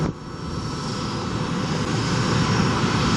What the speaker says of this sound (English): Meanwhile, departures continue to roll. This is evidenced by the Southwest 737 non-max.